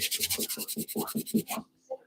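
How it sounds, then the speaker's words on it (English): Wood being hand sanded with sandpaper in a cold woodshop: about eight quick, even rasping strokes, close and steady, followed by a brief pause and a faint final scrape. "I'm just going to hand sand it for a little more"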